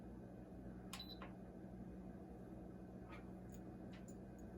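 Button beeps on an electric pressure cooker, a few short, high electronic chirps scattered through a quiet kitchen, one near the start and several more spaced out toward the end.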